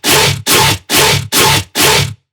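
Combined mono and stereo layers of a heavily distorted bass, five loud, dense, fuzzy hits played evenly in a row, with short silences between them and a clean stop at the end.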